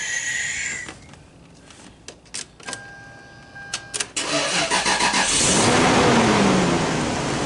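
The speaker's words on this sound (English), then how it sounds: "let's start the car," A car engine is cranked with several short clicks and whirs, then catches and settles into a loud, steady idle that swells slightly as it runs.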